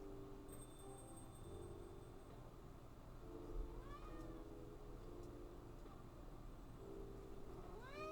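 A cat meows several times in an indoor setting, short rising cries at moderate distance over a steady low household hum, with no talking during the calls.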